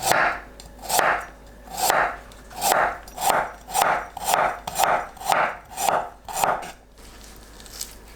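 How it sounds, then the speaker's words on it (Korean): A knife slices ginseng thinly on a cutting board, about a dozen evenly spaced thuds, close and clear, ending in a brief quiet. "인삼은 뇌두를 잘라내고 얇게 썰어주세요."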